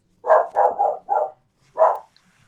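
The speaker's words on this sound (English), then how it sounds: "Sorry, dog alert." A dog barks four times in a quick run, then once more after a short pause, each bark loud and close in an otherwise quiet indoor room.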